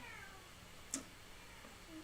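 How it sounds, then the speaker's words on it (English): A single short cat meow, faint and somewhat distant, in an otherwise quiet room. "he's just meowing in the background now"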